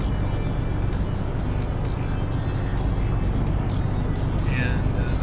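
A truck rolls along in slow traffic in American Truck Simulator, giving a steady, even rumble of engine and road noise that holds constant throughout with no sharp changes.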